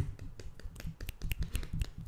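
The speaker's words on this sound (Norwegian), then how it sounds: "Knipseklapping." Fingers snap in applause at a celebration after an awards event, a quick cluster of overlapping crisp snaps from several people, fairly quiet and close, with no talking.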